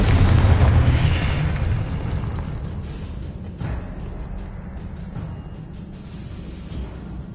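A spell explosion in the Hogwarts Legacy game on PlayStation 5 starts with a loud deep boom that trails off into a long rumbling decay, with faint crackling debris as it fades.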